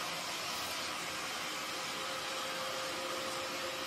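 A vacuum cleaner drones steadily in the background, a constant broadband whoosh with no breaks and no talk.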